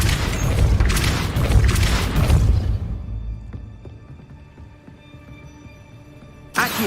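A Depulso spell cast in Hogwarts Legacy hits with a loud booming blast and crashing rumble, fading into a quieter mechanical tail before a short sharp burst at the end.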